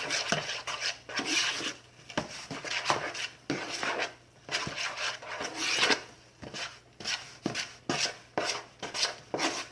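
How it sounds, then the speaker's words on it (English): Thick buttermilk biscuit dough being stirred in a bowl, repeated rasping scrapes of the spoon against the bowl in an irregular rhythm of short strokes, close and fairly loud with brief pauses between. "it will get harder to stir as it makes into a dough"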